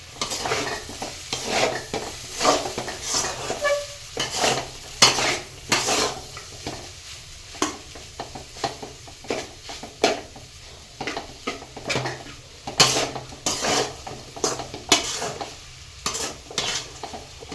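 A spoon stirs Maggi noodles in a pan, giving repeated light clinks and scrapes of utensil against metal in an irregular rhythm over a soft continuous sizzle, close and fairly quiet, with no talking.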